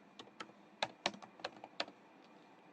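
Fingers typing Python code on a computer keyboard, a quiet, irregular run of about a dozen distinct key clicks with short pauses, close and alone.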